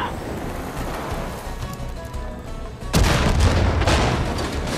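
A bomb goes off inside a mine in Far Cry 5, a sudden loud boom that cuts through a rumbling, noisy scene and leaves a rolling roar behind it.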